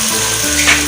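Chopped onions and tomatoes sizzle loudly in a pan, a brief, steady frying hiss with a slight stir near the end.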